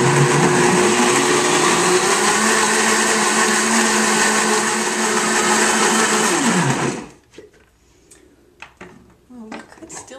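A blender whirs loudly and steadily as it blends a green smoothie with ice and water, running for about seven seconds before cutting off abruptly and leaving a few faint clinks and rustles.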